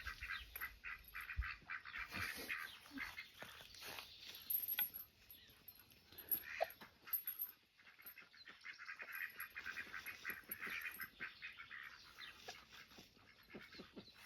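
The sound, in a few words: ducks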